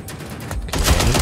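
Rapid bursts of gunfire in the video game Watch Dogs: Legion crackle in a quick cluster, louder and denser in the second half of the short moment.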